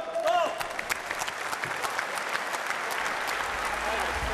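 Crowd at a Final Fight Championship MMA event applauding after the final bell of Marko Lukačić versus Antonio Mijatović, a sustained wash of clapping and cheering in an arena, with a commentator's voice faint at the very start.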